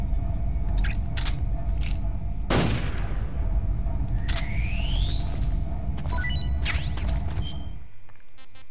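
Gunfire in the video game Metal Gear Solid 3 Snake Eater, with one loud shot and several sharper cracks over a constant dense rumble of game background, plus a rising whine and a few small metallic clicks.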